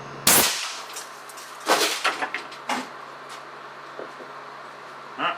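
A glass marble fired from an air cannon at 300 psi strikes a bathroom sink, giving a loud sharp crack followed by several clattering knocks and a smaller bang as the sink topples, then quieter rattles.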